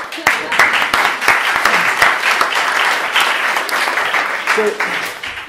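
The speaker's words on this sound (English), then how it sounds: "Round of applause." Loud audience applause fills the room after a beatboxing performance, many hands clapping continuously with a few sharper individual claps standing out.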